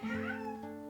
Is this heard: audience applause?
no